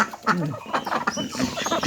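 Domestic ducks calling close by, a busy run of overlapping quacks and clucking calls in uneven bursts, fairly loud, with no clear talk over them.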